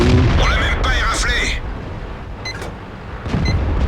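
A tank cannon fires in a World of Tanks style game while playing a Lorraine 40t, giving a deep boom followed by rumbling and faint metallic pings, with someone talking over the opening second.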